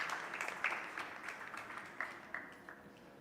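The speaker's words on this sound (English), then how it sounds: "Give them a round of applause." Light applause at a Krishna temple Sunday service for a children's class. A modest group claps, with a few distinct claps standing out over a soft hand-noise bed, and the sound slowly tapers off.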